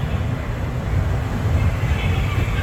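A Walt Disney World Railroad train rolls through Magic Kingdom, giving a steady low rumble of wheels and carriage noise that holds even and continuous throughout.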